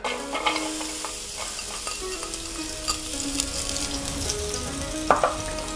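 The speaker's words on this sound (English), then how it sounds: "you want to fry up your meat, add some olive oil, and take the rest of your onions" Meat and onions fry in olive oil for Turkish gözleme filling, a steady close sizzle with scraping stir sounds and a sharp clatter near the end.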